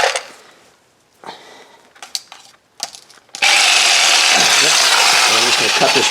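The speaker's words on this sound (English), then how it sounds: "in my case I'm going to use a Sawzall" A corded Sawzall reciprocating saw cuts through a sway bar link on a 2005 Chevrolet Suburban, starting after some brief handling clatter and then running loud and continuous, close up, with a harsh buzzing rasp.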